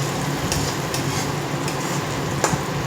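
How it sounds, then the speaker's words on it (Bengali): Loitta fish hits hot oil with cooked-down spices and sets off a steady, close frying sizzle, with a few sharp clinks of a spoon against the pan. "এইবার মাছগুলো সব দিয়ে দেবো"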